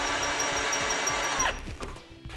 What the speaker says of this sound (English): Using a 13/32 drill bit, we will drill a hole using the top hole of the base plate as a guide.